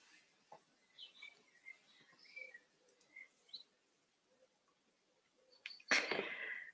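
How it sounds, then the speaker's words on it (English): Faint spring bird chirps and tweets scattered through a quiet space, ending with a sudden sharp, louder burst of noise. "the little beginnings of spring in the background with the beautiful birds tweeting away"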